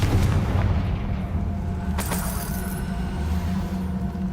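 A Confringo spell blast goes off in Hogwarts Legacy, a loud booming explosion with a sharp crack near the two-second mark over a continuous rumbling game soundscape.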